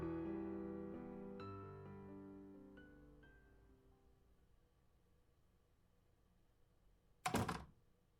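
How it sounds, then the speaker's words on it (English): In a Fate Stay Night visual novel, a single dull door thud sounds near the end, after soft, fading piano-like music and a quiet stretch. "The door closes."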